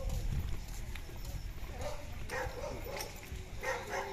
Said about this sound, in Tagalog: lalaking kabayo